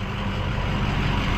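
A noisy Ford truck engine runs at a steady, loud, close idle, a continuous low rumble that holds without a break for the whole stretch.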